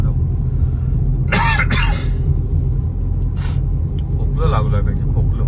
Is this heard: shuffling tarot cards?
no